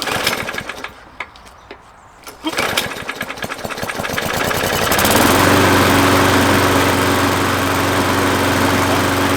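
A Ferrex petrol self-propelled lawn mower being started: rattling pull-cord tugs and sputters give way to a loud, steady engine roar held close by, with a voice briefly heard early on.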